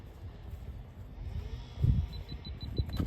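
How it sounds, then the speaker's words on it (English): A short series of faint, evenly spaced high beeps from a Halo 5 GPS dog fence collar near the end, over outdoor rumble and wind-like background noise. "It started to beep here, right?"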